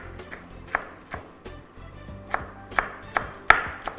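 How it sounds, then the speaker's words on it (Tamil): A knife chops capsicum on a board for a pasta marinara sauce, heard as about a dozen crisp, close, uneven thuds that grow slightly louder toward the end, with no talking. "இப்போ இந்த சாஸ் பண்ணுறதுக்கு கொஞ்சமாக நான் வந்து இந்த கேப்சிகமை கட் பண்ணிக்க போகிறேன்"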